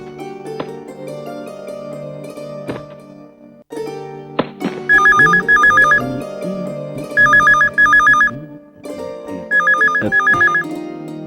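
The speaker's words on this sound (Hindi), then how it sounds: "Sir telephone." A telephone rings in repeated bursts in an office scene from a Hindi film, the warbling ring coming in three clear groups over a low background music bed.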